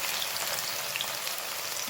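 Cumin, tomato and a garlic-chili paste fry in a hot pan in a home kitchen, a steady, close, crackling sizzle that holds evenly throughout with no voices.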